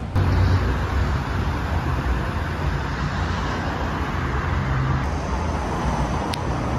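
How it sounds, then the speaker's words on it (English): Street traffic rumbles as a continuous, fairly loud roar of passing cars and road noise, heard without any talking. "I'm not sure if you guys are gonna be able to hear me because there's like traffic noise."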